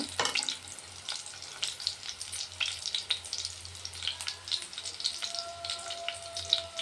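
Eggs fry in a pan for an egg curry, a light, close crackle with scattered sharp pops and occasional stirring clicks, fairly quiet overall.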